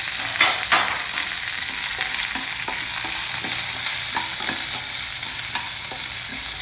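Drained groundnuts tipped into hot oil with curry leaves, giving a loud, even sizzle with occasional stirring scrapes and taps, close up, no talking.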